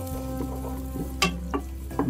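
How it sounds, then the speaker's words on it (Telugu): Thinly sliced onions with green chillies and whole spices frying in hot oil for restaurant-style paneer butter masala, a steady low sizzle broken by a few sharp clatters of a spoon stirring the pan. "నూనె వేడెక్కాక సన్నగా తరుముకున్న ఉల్లిపాయలు వేసుకొని వేయించుకున్నాం"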